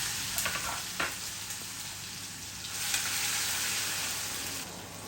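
Tomato hits hot oil with golden garlic and cumin seeds, sending up a loud, dense sizzle that swells for a moment and then holds steady, with a few stirring clinks and no talk.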